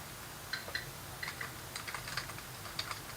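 Typing on a computer keyboard, soft clicking keystrokes in irregular bursts with pauses, faint and close against a steady hiss, no voices.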